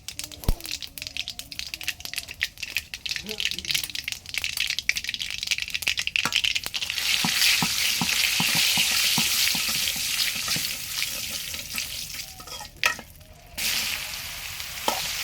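Ridge gourd dropped into a wok of hot oil tempered with mustard seeds, the sizzle suddenly swelling to a loud, steady hiss after scattered clinks and taps, with faint voices in places.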